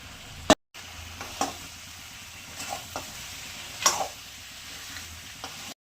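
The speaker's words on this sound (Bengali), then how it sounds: "এবার মাছের মাথাগুলো দিয়ে দিলাম।" Katla fish heads go into a frying pan with tamarind and tomato for a sour fish-head dish, setting off a close, steady sizzle. Occasional clinks and scrapes of stirring break through the hiss, and no one speaks.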